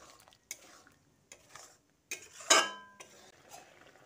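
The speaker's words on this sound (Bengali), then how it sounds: "এবার দই ও বাদামের মিশ্রণটা ঝিঙের সঙ্গে ভালোভাবে মিশিয়ে নিচ্ছি" A yogurt and peanut mixture is stirred into cooking ridge gourd in a pan, giving intermittent spoon scrapes and clinks against the metal with a soft sizzle, and one louder clatter near the middle.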